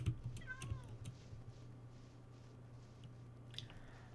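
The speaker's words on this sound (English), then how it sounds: "oh, cats." A cat meows a few times in the Minecraft video game, short rising calls near the start over a low steady hum, followed by quieter game noises.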